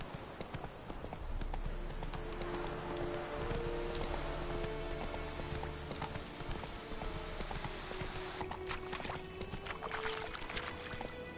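Hooves of a horse galloping in The Witcher 3 beat a continuous rhythmic clip-clop under a wash of ambient noise and rushing sound, with a tonal hum sliding in and out across the stretch.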